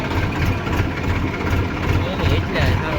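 A tractor engine idles steadily nearby, a low rumbling throb with constant vibration and no pauses.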